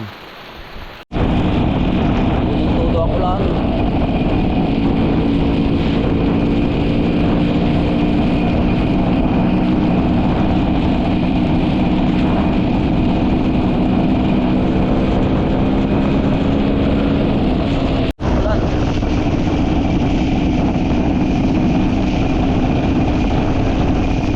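A motorboat engine drones steadily and loudly throughout, on a boat in heavy rain, with a constant hum under a wash of noise and a brief cutout near the end.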